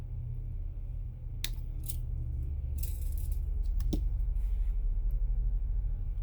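Silver 20 gauge memory wire being trimmed with cutters, a few sharp clicks and snips scattered over a low steady background hum, close and quiet with no talk.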